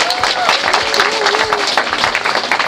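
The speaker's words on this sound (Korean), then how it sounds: "박수 한번 해주시겠습니까?" Wedding guests applaud after the couple is pronounced married, a close, lively burst of clapping with voices and a brief whistle-like tone mixed in.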